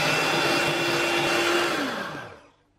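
A keto raspberry mousse mixture is whisked with stevia using an electric whisk or mixer, giving a steady, loud whirring hum that drops in pitch and fades out as the motor stops. No one speaks.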